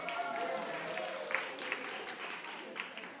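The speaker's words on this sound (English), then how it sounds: "And applause for yourselves for..." A live storytelling-night audience in Bremerton, Washington gives a round of applause. Dense, even clapping from many hands carries on throughout, with a few sharper individual claps standing out.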